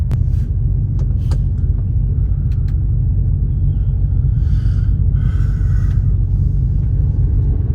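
A truck drives forward along a narrow rural road, its engine a steady loud low rumble throughout with faint rattles and clatter above it.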